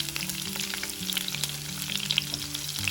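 Sliced onion and garlic fry in hot oil, a dense close crackling sizzle with bright spitting pops and a low steady hum beneath, loud and without any voices.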